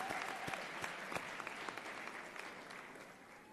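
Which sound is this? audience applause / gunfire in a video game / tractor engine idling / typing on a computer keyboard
audience applause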